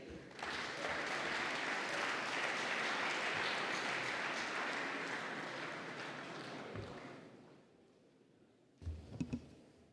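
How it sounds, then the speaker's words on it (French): An audience at a business talk by the Air France chief executive applauds loudly and evenly for several seconds, then the clapping thins and fades to near quiet before a brief burst of movement or handling noise. "Merci de l'applaudir"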